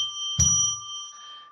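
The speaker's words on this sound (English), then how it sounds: "we'll ring a bell 3 times now to declare sacred space." A bell rung to open a sacred-space ritual sounds a single clear strike, starting with a soft thunk and then a sustained ringing tone that slowly fades, heard alone without talk.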